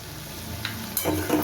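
Salt and turmeric are stirred into tomatoes frying in a pan for a fish curry with potatoes, giving a soft steady sizzle with a few scraping stirs near the end and no talking.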